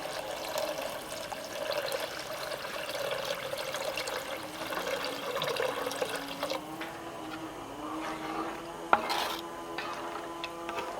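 Kudampuli tamarind water is poured into a pan of fish curry, giving a continuous soft splashing and trickling, with a faint clink of the pan near the end and no talk.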